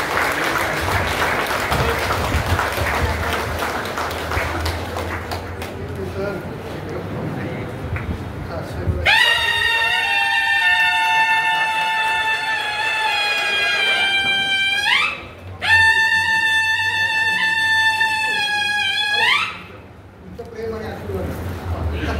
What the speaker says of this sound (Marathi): सूरज सरांकडे जोरदार टाळ्या झाला पाहिजे.